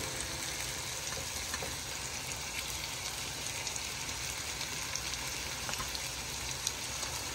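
Bombay duck (loitta) fish sizzle in a spicy Bengali-style masala: a steady, soft frying hiss with tiny crackles runs throughout, on its own with no talking.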